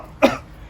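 A single short, close cough from a man with a small cold, one abrupt husky burst with a throaty edge, alone against quiet background.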